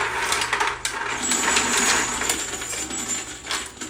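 Brass cases drop one after another from a case feeder mounted on a Dillon RL550 reloading press with an XL bullet feeder, giving a steady, busy rattle of small metallic clinks and tinkles close up, with no talking.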